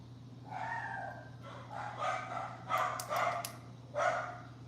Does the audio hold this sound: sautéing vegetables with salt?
no